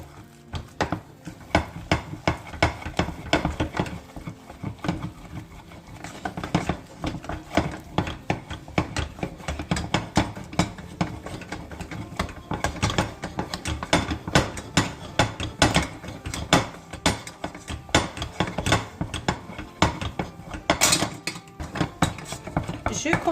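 Choux pastry dough gets stirred in a pan, a steady run of quick scraping and clacking utensil strokes against the pan, close and fairly busy, with a voice talking over it.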